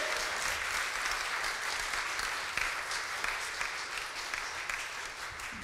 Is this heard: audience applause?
yes